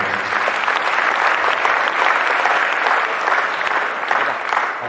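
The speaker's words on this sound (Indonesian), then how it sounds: "Tepuk tangan buat mereka." A seminar audience at a motivational event in Banten gives sustained, dense applause for performers, a loud, even wash of clapping from many hands that continues steadily throughout with no speech over it.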